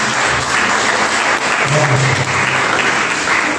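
A church congregation claps loudly for the Lord during an evening worship service, dense sustained applause filling the whole stretch with no break.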